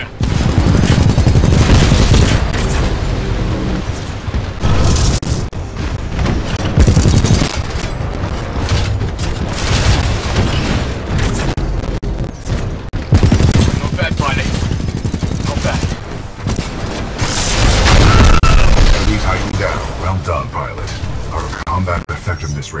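Sustained heavy gunfire fills a Titanfall 2 campaign battle, with loud, dense automatic bursts and booming shots rolling almost without pause, while voices speak over the fight.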